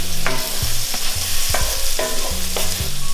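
Fine flour and mushrooms cooking in a pan, a loud steady sizzle broken by regular stirring knocks and scrapes about every half second, close up with no voices.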